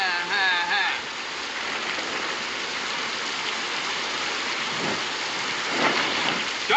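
Steady rain pours outside in a broad continuous wash of hiss, fairly loud and even, with a brief tonal sound at the start and a few faint stirrings later.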